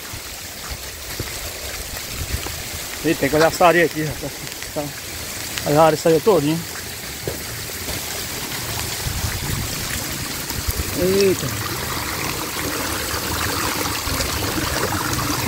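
Rainwater runs hard down a sandy channel in northeastern Brazil, a continuous rushing wash close by while someone talks over it in short bursts.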